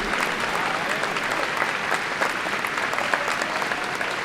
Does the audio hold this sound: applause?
yes